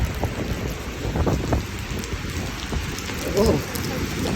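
Rain falls steadily on a surface with pattering drops and some wind buffeting the microphone, fairly close and continuous, with a brief vocal sound near the middle.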